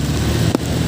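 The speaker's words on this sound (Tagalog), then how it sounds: "Ang lakas ang ulan" Heavy rain during a storm on Christmas Day, a dense, loud, steady roar of rain with a brief thump partway through.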